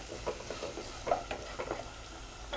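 Potato and cabbage frying in a pan for poriyal, with a soft steady sizzle and irregular light scraping stirs, quiet and close, no voices.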